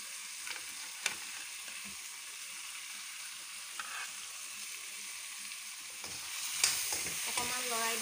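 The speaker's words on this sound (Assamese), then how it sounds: "লৰাই দিছোঁ সকলোখিনি" Fried fish and chopped ridge gourd for an Assamese fish curry are stirred in a hot pan, with a steady close sizzle and occasional scraping strokes of the spatula.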